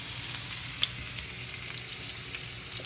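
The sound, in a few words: sliced onions frying in hot oil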